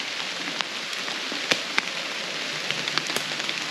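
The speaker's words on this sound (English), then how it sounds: "right now it's raining" Steady rain falls outdoors as a soft continuous patter, with scattered sharper drops tapping close by against surfaces.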